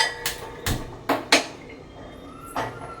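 Sharp metallic clanks and knocks ring out as a metal cooking pot is set onto a stove in a home kitchen while preparing village-style chicken biryani, five or six separate close hits spread over a few seconds.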